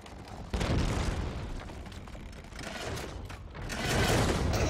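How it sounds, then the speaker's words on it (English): A ballista bolt fired in a medieval siege video game strikes home with a loud, close, booming impact, followed by rumbling debris and a second swell of crashing noise near the end. "I just fired a ballista over there."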